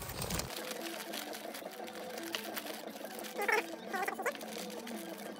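A sewing machine stitches a fabric compression bag for bikepacking, a fast steady mechanical whirring with brief chirping bursts as the stitching speeds up, close and fairly quiet, with no talking.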